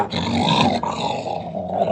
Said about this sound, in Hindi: तो उसे घुराने की आवाज़ आती है।